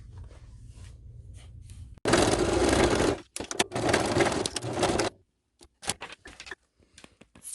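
A sewing machine binding a bikini strap runs in two loud, steady bursts of rapid mechanical stitching, separated by brief pauses, followed by quieter handling clicks.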